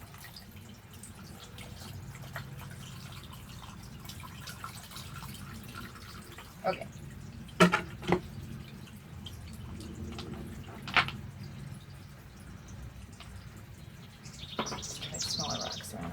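Water trickles and drips steadily from a small water feature set in a potted fairy garden, a soft continuous wash with a few brighter splashes, while someone talks briefly over it.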